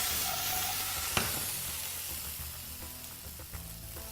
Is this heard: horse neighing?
no